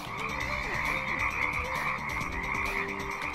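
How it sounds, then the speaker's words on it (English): Frogs croak steadily in the Jazz Jackrabbit Doom mod video game, a dense, layered chorus of repeated ribbits holding at an even level throughout with no talking. "La frogs croaking."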